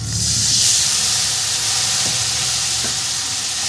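Water splashed into hot potato-frying oil with cumin and coriander powder for a Bengali egg bora curry sends up a loud, continuous steamy hiss and sizzle close by, holding steady throughout.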